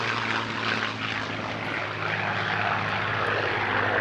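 A World War II P-51 Mustang propeller fighter roars past at low altitude during the NAS Oceana airshow, a loud, steady, throbbing engine drone with a continuous low hum.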